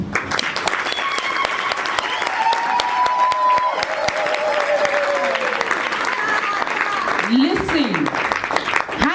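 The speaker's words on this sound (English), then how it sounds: "please help me to give a sounding round of applause to Karabo Nkoli" A crowd at a book launch breaks into sustained applause, dense steady clapping filling the room throughout with some cheering voices and whistles mixed in.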